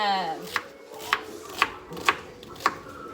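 Knife chopping an onion on a cutting board for homemade spaghetti sauce, five crisp evenly spaced chops standing out clearly over quiet kitchen background.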